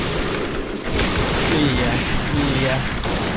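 Gunfire in the shooter Point Blank: rapid, dense bursts of loud shots rattling on without pause, while a player speaks over the shooting.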